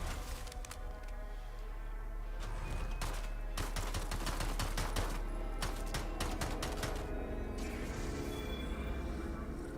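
Rapid bursts of assault rifle gunfire from a video game where the weapon resembles an AK-74, firing in dense automatic volleys with sharp repeated cracks over a steady background of game sound.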